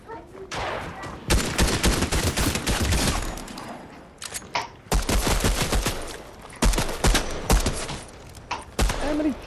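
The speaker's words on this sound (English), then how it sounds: "Are you shooting over there?" Gunfire rattles in Fortnite as rapid automatic bursts, loud and dense, with short pauses between volleys and a few brief single shots.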